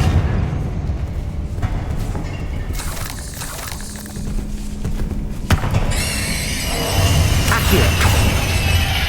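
A Confringo fire spell in the Hogwarts Legacy video game, heard as a loud booming blast with crashing, thudding impacts and a bright crackling burst that swells near the end over steady game noise.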